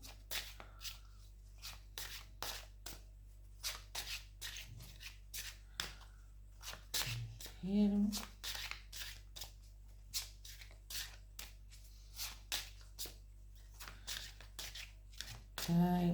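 Rune stones are shuffled in bursts of sharp clicking and rattling, repeated in irregular clusters at close range under a quiet background, with a few brief voiced moments between.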